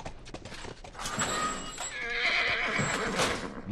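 A horse whinnies loudly in The Last of Us video game, a drawn-out neigh with hoof clip-clops mixed in, close and clear without talk over it.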